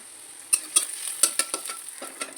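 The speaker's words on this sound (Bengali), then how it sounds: "এবার শাক ভাজার জন্য রসুনটা ভেজে নিয়ে শাকটা ঢেলে দিলাম।" Drumstick greens poured over garlic frying in a pan, a soft sizzle with a quick series of sharp utensil clinks and stirring scrapes, fairly close, no talking.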